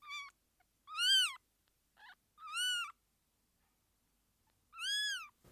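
A newborn abandoned kitten with its umbilical cord still attached, found in a warehouse, meows loudly and clearly in three rising-falling cries with short pauses and faint scrabbling between them, close and alone.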